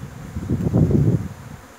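Dense, droning buzz of a honeybee swarm swirling close by while being moved into a hive box, rising and falling slightly over a couple of seconds with no voices.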